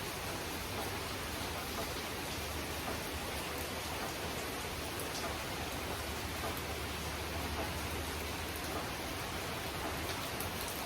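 Steady, dense rainfall hisses evenly and continuously throughout, a close and unbroken wash of drops with no speech over it.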